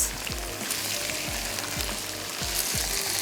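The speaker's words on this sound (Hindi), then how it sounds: "अब मैं इसमें ऐड करने जा रही हूँ कैबेज।" Cabbage frying in a pan for a chicken and chickpea dish: a constant close sizzle with a regular scraping stir repeated about every half second, no one speaking.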